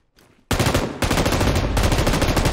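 Sustained automatic gunfire in PUBG on the Sanhok map, a dense loud rapid burst that starts abruptly after a brief faint lead-in and keeps rattling without pause, close up with no talk over it.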